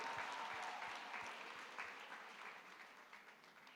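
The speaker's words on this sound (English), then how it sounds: "Let's give her a round of applause in absentia." A graduation audience claps together in a steady round of applause, dense and even at first, then gradually thinning and softening toward the end, with no voices over it.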